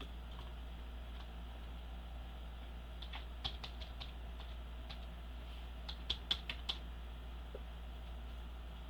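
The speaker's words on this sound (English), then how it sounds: "And I just press Control and the letter V." Keys tapped on a computer keyboard for a Control+V paste, a few faint clustered clicks around the middle and again later over a steady low hum, no talking.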